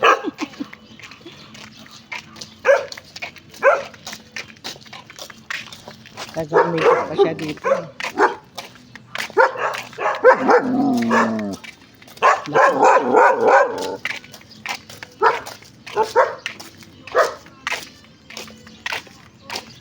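A large dog barks in repeated short bursts on a neighborhood walk in Pangasinan, Philippines, with someone talking over and between the barks nearby.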